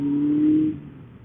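A motorcycle accelerates hard while overtaking a tractor on a country road, a loud, steady engine drone rising in pitch for about two-thirds of a second before it eases off and fades.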